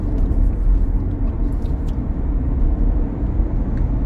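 Steady loud road rumble and engine drone from a Genesis GV80 accelerating on a highway, heard continuously throughout without talk.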